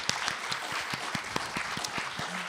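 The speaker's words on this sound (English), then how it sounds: "just a round of applause for all of our candidates as well" A round of applause from the audience at a school board candidate forum, dense steady clapping from many hands close by with no talk over it.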